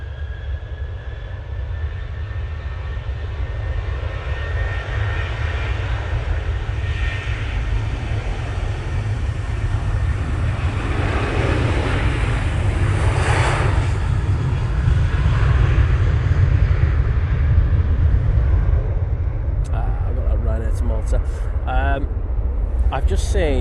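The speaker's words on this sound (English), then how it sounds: "KLM 737-800, now on the roll, going off to Amsterdam" A KLM Boeing 737-800 takes off from Manchester Airport bound for Amsterdam, its engine roar building to a loud sustained rumble that swells and then fades, with someone talking over it.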